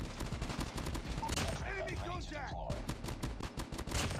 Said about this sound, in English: I'm just tap firing.